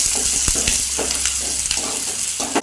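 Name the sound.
frying ground garlic, cinnamon and fennel paste in a pan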